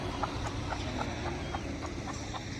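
Backyard farm hens, a mix of Aseel fighting birds and village stock, cluck softly and steadily over a busy background of flock noise. The clucks come as soft, repeated pulses at medium distance, with no talk.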